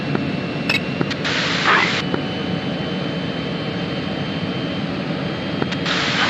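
An airplane engine in a flight simulator game, a steady continuous drone with a few brief clicks and short bursts of hiss.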